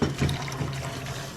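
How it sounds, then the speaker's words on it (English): Water being poured into a cup while making pickled eggs with beets, a steady liquid trickle and splash running continuously for a moment, fairly close with no talking. "So now you're going to add 3 cups of water."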